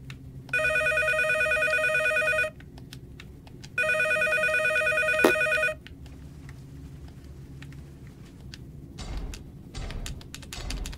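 An in-game telephone rings in two long electronic bursts, loud and close, in the horror game Case 2: Animatronics Survival, followed by scattered clicks and rumbling game sounds.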